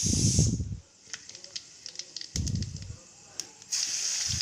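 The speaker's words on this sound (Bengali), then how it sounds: "এবারে ওই তেলের মধ্যে দিয়ে দেব 5 ফোড়ন" Panch phoron spices dropped into hot oil left from frying fish crackle and hiss in three sharp bursts with quieter gaps between them, close and fairly loud.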